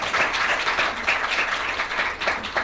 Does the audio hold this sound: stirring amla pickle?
no